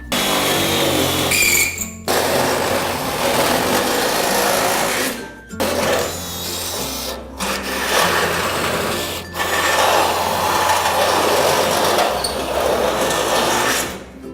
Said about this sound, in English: If you've got a 14mm drill bit or a 16, that'd be perfect. Just drill through your pilot hole.